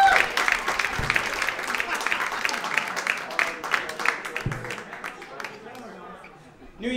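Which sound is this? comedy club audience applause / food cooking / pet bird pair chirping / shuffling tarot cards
comedy club audience applause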